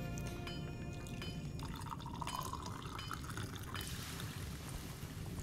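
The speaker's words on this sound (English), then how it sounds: "Hold on while I'm just gonna pour myself a cup" Coffee being poured into a cup, a steady trickling liquid stream over a constant low background hum, with no talking.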